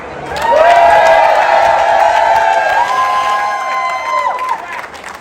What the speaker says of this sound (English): Let us give Erica a round of applause one more time.